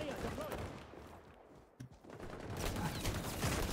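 Shotgun fire in the video game XDefiant, dense bursts of gunfire blending into continuous game noise with a short quiet gap midway, then loud again.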